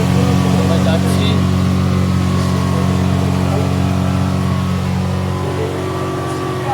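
A boat engine runs steadily while the boat heads out to sea off New Digha beach, a loud, close, low droning hum that holds throughout under voices talking.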